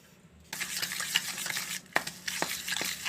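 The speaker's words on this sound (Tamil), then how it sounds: "அதை நெய்யில் போட்டு நல்லா மிக்ஸ் பண்ணிக்கலாம்." Powdered jaggery and cardamom get stirred into ghee for homemade ghee biscuits, a short burst of soft sizzling with a few scraping clinks of the spoon, fairly quiet and without voices.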